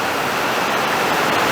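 Heavy rain falling outside a workshop, a dense, even hiss that stays loud and steady throughout the short stretch, with no voices.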